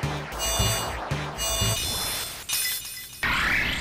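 Klink evolving into Klang in Pokemon White: layered metallic shattering and clinking tones, loud and bright, with a rising chime swell near the end.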